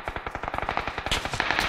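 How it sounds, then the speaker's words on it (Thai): Rapid automatic gunfire in PUBG on the Erangel map, a quick run of about fifteen sharp shots in under two seconds, moderately loud with no talk over it. "หลังบ้านยิงกัน"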